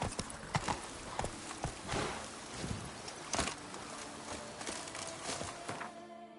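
Hooves of Roach, a horse in The Witcher 3, pound the ground in a quick galloping clip-clop rhythm, close and steady, with a faint whoosh of movement behind the hoofbeats.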